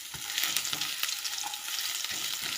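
Five-spice seeds and dried red chillies crackle in hot oil in a wok as they are stirred. The sizzle is bright and busy, close up, with spatula scrapes now and then and no voices.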